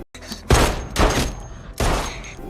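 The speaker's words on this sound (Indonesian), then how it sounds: "Lalu Noah mendengar suara tembakan itu." Three loud, booming gunshot blasts in quick succession, each with a long rumbling tail, close and heavy.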